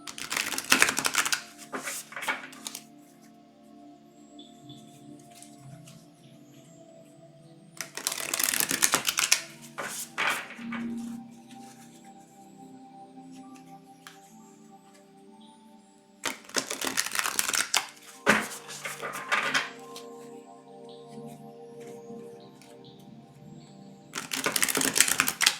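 A deck of tarot cards is shuffled during a full moon divination reading, with several bursts of crisp riffling separated by quieter pauses over faint background tones.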